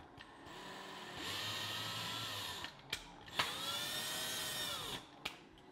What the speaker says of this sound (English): I've picked that tap and I've loaded it into my drill here.